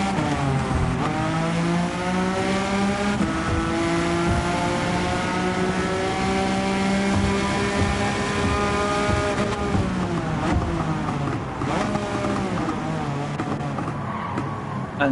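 Race car in Gran Turismo 7, tuned for wall riding, drives at speed with a loud continuous engine whine that climbs through the gears and dips at shifts, interspersed with brief tire noise.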